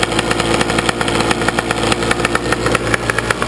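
Engine warming up at a loud, close, steady rhythmic idle with a slightly uneven pulse throughout.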